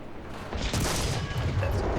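A Panzer IV/70(V) tank destroyer in the video game War Thunder fires its cannon once: a loud, close boom about half a second in, followed by a lingering low rumble.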